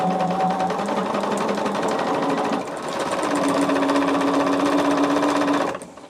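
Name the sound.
sewing machine sewing fabric pieces together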